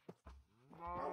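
A cow in the Minecraft video game moos once, a short low grunt swelling into a loud, drawn-out bellow that fills the end of the clip, close and with no talk over it.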